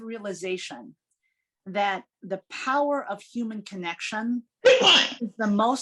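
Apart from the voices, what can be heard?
sneeze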